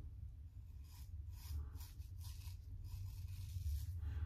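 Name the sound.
razor shaving a pass across the face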